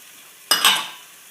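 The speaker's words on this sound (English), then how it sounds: "we just give that a nice stir in" Mushrooms and chopped tomato stirred into sizzling onions and garlic in a pan: a single sudden burst of hissing sizzle with a scrape of the utensil, loud and close, fading over about half a second.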